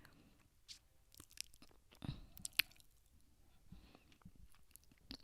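Someone chews a bite of rotisserie chicken, mushroom and spinach tortilla pie close to the mic: quiet, wet chewing with soft crunches and a few sharper bites, with no talking.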